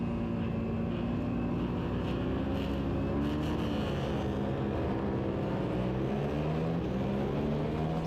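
Lightweight Twins Superstock race motorcycles pull away at a race start at Roebling Road, a steady, fairly quiet engine drone with shifting pitch running without a break, with no voices.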